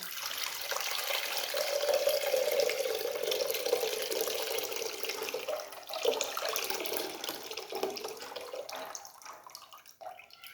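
Water pours out steadily as baking-soda water is drained from soaked orange peels, a close, continuous splashing stream that fades and turns to a few trickles and drips near the end.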